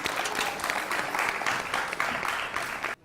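An audience applauds a woman at a televised event, a steady, dense clatter of many hands that fills the space and stops abruptly near the end.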